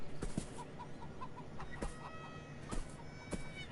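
Chickens in the video game Beyond Eyes cluck in short, scattered bursts, close and moderately quiet over soft outdoor ambience.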